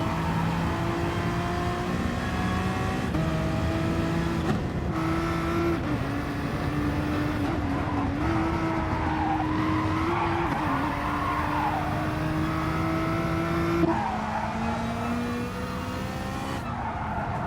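Race cars in a Gr3 championship round of a racing video game at Maggiore GP circuit, steady droning engines with shifting pitch running continuously, a gear change around the middle, loud and close throughout.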